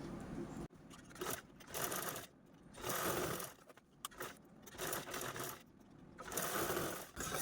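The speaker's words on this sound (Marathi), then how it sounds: "जीप जी आहे ती सेंटरला ठेवून घ्यायची या कडेकडेने आणि या कडेने स्टिच करायचं आहे" Domestic sewing machine stitching fabric along both edges of a centred zip, running in several short bursts with brief pauses between them, close and steady, with no talking.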